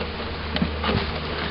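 Honeybees around a hive, a close, continuous droning buzz with individual bees flitting past the mic, loud and steady with no talking.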